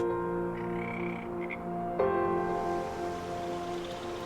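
Frogs croak in the Farming Simulator video game on the Silverrun Forest map, a steady chorus of ribbed, droning calls running through the whole stretch with a louder croak joining partway and no talking.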